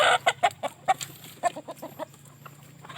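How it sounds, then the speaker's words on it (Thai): A rooster clucks in a series of short, close, loud calls, gradually softening toward the end, with no talking. "นี่ครับพ่อไก่ตัวนี้ครับ"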